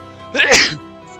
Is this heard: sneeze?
yes